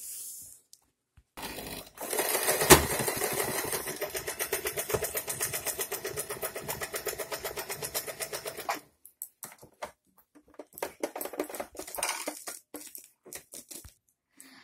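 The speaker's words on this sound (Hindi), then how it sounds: "हमने दो डार्ट में स्टिचिंग लगा दिया है" A domestic sewing machine stitches darts on a padded blouse, running in a steady mechanical burst of several seconds, then falling into shorter, intermittent runs of stitching with pauses between them.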